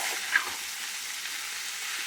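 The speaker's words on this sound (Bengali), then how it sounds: "দেখো আমার মোচাটা কিন্তু প্রায় ভাজা ভাজা হয়ে এসছে" Chopped banana flower frying in a pan, a dense, steady sizzle that holds at an even level throughout, close and loud with no talking.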